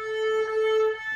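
A single sustained bowed erhu note, steady and fairly loud, with a slight wavering swell in the middle before it fades.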